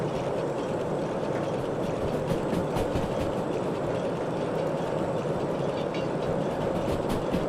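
A steam locomotive in the Derail Valley game builds up speed, giving a steady rumbling rail roar with faint clickety-clack, continuous and fairly close, without speech.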